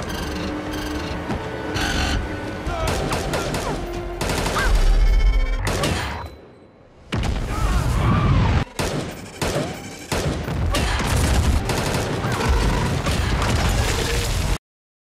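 Film gunfire aimed at Reaper creatures, loud dense bursts of shots and explosive pops with a brief lull midway before the barrage resumes.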